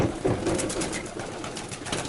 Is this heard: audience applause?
no